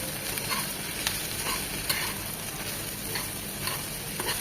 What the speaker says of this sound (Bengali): তেলটা একটু গরম হয়ে এলে শুটকিগুলো দিয়ে দিচ্ছি, সাথে দিয়ে দিচ্ছি 7-8টা রসুনের কোয়া মাঝখানে কেটে দিয়েছি।